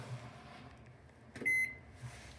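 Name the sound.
hotel room microwave oven running and beeping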